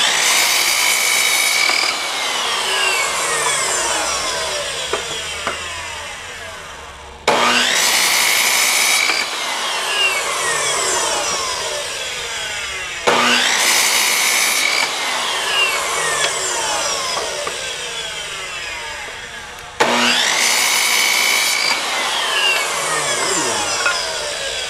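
A worn power saw with a failed automatic brake cuts through an old wooden bottle holder in four loud, close bursts, each starting with a sharp motor whine and then slowly winding down.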